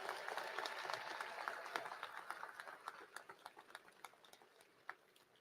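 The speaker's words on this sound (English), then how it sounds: "You deserve a round of applause." Graduation audience applauding at a College of Education commencement ceremony, a dense wash of clapping that thins into scattered individual claps as it fades out.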